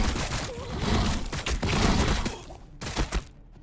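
Gunfire from reaction fire in the strategy video game Warhammer 40000 Battlesector, a dense burst of loud overlapping shots and impacts followed by a few scattered blasts before it cuts to near silence.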